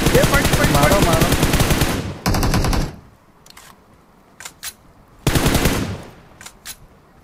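Rapid automatic gunfire in the mobile battle royale game BGMI: two loud sustained bursts with a short pause, then scattered single shots before another heavy burst, all close and sharp.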